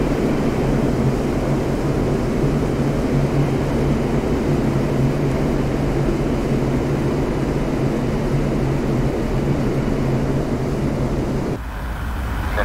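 A Mirage 2000C jet on landing approach in the DCS World flight simulator, a steady loud roaring engine drone that holds constant before dropping off abruptly near the end.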